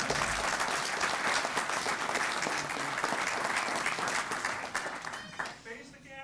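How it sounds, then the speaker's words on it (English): An audience at a police promotion and swearing-in ceremony breaks into sustained clapping that fills the room, fading out near the end. "Give him a round of applause."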